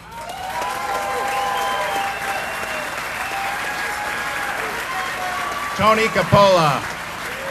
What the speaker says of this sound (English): I'd like to give them a round of applause and recognition as well